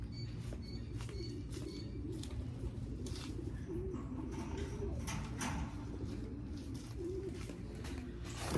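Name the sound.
racing pigeons cooing in a loft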